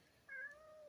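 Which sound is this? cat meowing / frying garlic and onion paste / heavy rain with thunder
cat meowing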